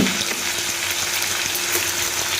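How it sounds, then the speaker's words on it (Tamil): Steady, dense sizzling of salted tomatoes sautéing in a hot pan for a Tamil-style kuzhambu, with faint stirring scrapes and no voices. "உப்பு சேர்த்துட்டு நல்லா வதக்கி விட்டுக்கலாம்"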